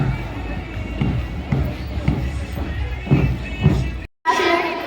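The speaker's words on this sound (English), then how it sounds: "A big round of applause." Audience at a school annual function in Lucknow cheering and clapping, a lively crowd roar with thumps and children's shouts rising in bursts, then a brief cut before the noise resumes.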